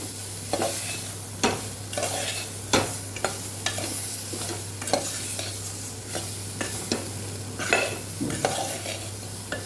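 Boiled cluster beans sauté with turmeric and salt for a Kathiawadi-style dish: a loud, continuous sizzle cut by regular, rhythmic scraping strokes of a spoon against the pan roughly every second, with no talking.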